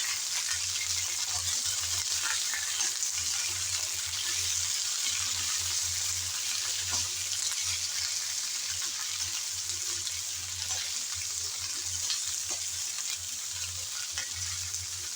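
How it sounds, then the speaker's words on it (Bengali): Pointed gourd pieces fry in oil with black cumin, making a constant close sizzle with faint stirring movements over a low steady hum. "তেলের মধ্যে প্রথমে নেড়ে চেড়ে একটু ভেজে নিয়েছি"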